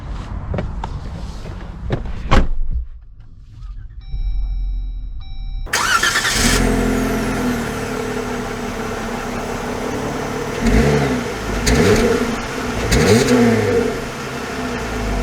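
A 2022 Jeep Wrangler High Tide with a 3.6 liter V6 starts up, then settles into a loud, steady engine drone with rising revs as it pulls away, close and continuous, with a chime briefly heard before the start.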